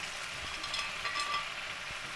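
Potatoes for coriander aloo hit a pan and sizzle, a soft continuous frying hiss with faint crackles, fairly quiet and close.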